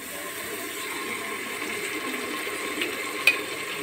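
Garlic-ginger paste hits hot oil with fried onions in a pan, giving a steady, soft sizzle and crackle with a faint tap near the end and no talking.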